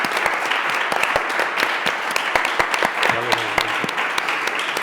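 Steady applause from an audience, many hands clapping at a brisk, dense rate with a few louder claps standing out.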